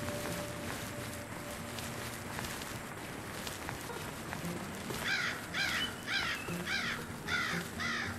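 A bird calls in the animal survival video game The Cenozoic Era, a run of about six harsh, crow-like caws in a steady rhythm over a quiet ambient bed, with no talking.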